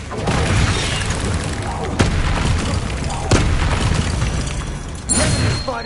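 The Incendio fire spell goes off in the video game Hogwarts Legacy as loud booming bursts, with two sharp cracks and a whooshing flare near the end over a rumbling game mix.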